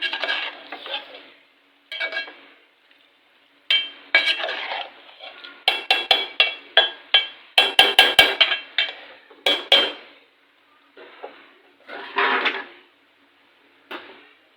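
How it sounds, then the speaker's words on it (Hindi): Minced meat (qeema) with yogurt being stirred in a pot, a series of irregular metallic spoon scrapes and clinks against the pot with short pauses between bursts. "तो जी अब हम इसको मिक्स करेंगे।"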